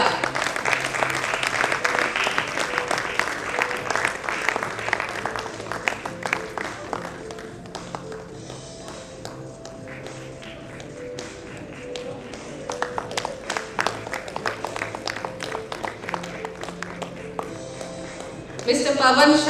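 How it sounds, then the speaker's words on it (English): Applause from a convocation audience at a bankers' program ceremony, sustained clapping that dips to a softer patter midway and then swells again strongly at the end, with a voice speaking over it. "Huge round of applause"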